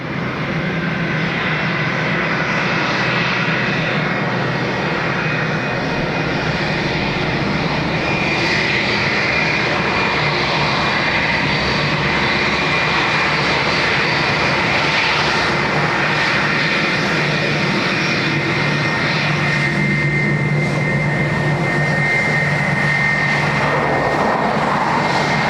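An aircraft landing on runway 28 left at Dublin Airport: a loud, steady engine roar that holds at an even level throughout, with no talk over it.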